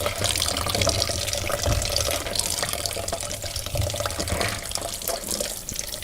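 Banga palm fruits are washed in water, with continuous sloshing, trickling and splashing close by, and a couple of heavier splashes along the way. No one speaks.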